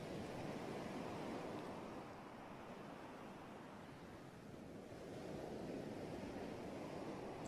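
Ocean waves closing out and wind at North Narrabeen beach during a surfing competition, heard as a steady, loud, broadband roar of surf and gusts with a slight dip and swell in the middle, with no talking.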